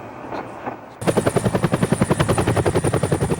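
A helicopter kicks in after a second of quieter ambience, its rotor thumping in a fast, steady, loud rhythm close by and alone.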